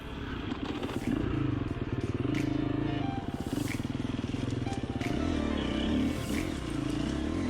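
Adventure motorcycle ridden across a sandy riverbed, its engine a steady loud throbbing drone that rises and falls with the throttle, with a voice speaking over it.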